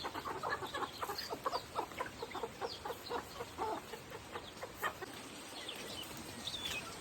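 Chickens cluck on a village farm in a quick, irregular run of close, moderately loud clucks that fades toward the end, with no talking.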